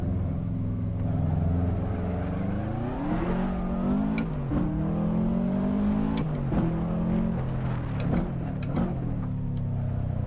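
A Subaru WRX engine runs in Assetto Corsa, racing up Pikes Peak, revving and dropping repeatedly through gear changes, with the pitch sweeping up and falling back, loud and continuous with no speech.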